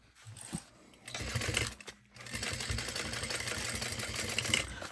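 A sewing machine top-stitches along the side of a crossbody bag, running in a fairly quiet, continuous whir with a short pause partway through.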